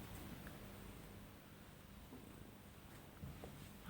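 A young long-haired cat purrs softly and steadily at close range, a faint continuous rumble with no voices over it.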